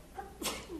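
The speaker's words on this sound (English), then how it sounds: "Gesundheit." A single short human sneeze in a lecture hall, faint and somewhat distant, a quick burst lasting well under a second.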